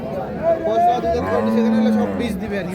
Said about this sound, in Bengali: দুই দাঁত বয়সের গাভী